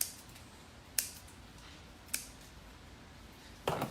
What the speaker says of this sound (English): I'm just going to trim those off.